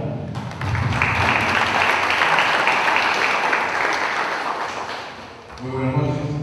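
An audience at a Lima bar association lecture applauds loudly to welcome a speaker, dense sustained clapping for about five seconds that fades before a voice begins near the end.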